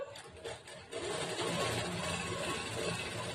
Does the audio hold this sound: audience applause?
no